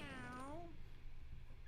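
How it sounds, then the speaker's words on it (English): A cartoonish cat-style meow from Mario in the Super Mario 3D World video game, one short rising-then-falling call at the start, then quiet game background. "I was just meowing because Mario meowed"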